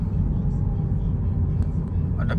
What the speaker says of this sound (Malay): Oh, banyak kereta.